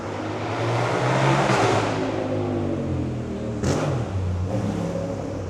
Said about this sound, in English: Very loud motorbike.